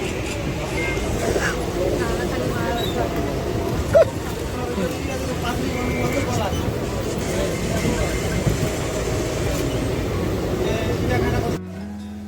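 Rumbling Mumbai local train interior after boarding at CST, with a steady engine and rail drone, murmuring passengers and voices talking nearby throughout.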